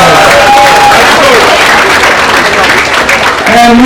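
An audience at a Brooklyn gathering gives a very loud, sustained round of applause for the New York State Assembly Speaker, a dense wash of clapping, with cheering and a few voices rising through it.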